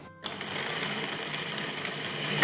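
A food processor whirs steadily as it blends fresh basil while olive oil is added, a continuous close motor hum that starts abruptly after a moment of quiet.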